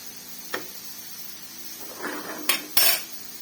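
Cabbage and capsicum stirred in a cooking pot, a few close metallic clanks and scrapes of utensil against the pot, with a brief soft rustle between them and no talking.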